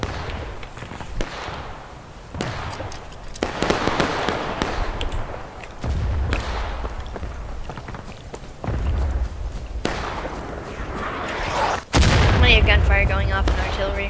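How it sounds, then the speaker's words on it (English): Repeated booming musket gunshots and heavy artillery blasts ring out at intervals in the video game War of Rights, with distant rumbling and crackling between them and a sharp burst near the end. "Gunfire going off and artillery."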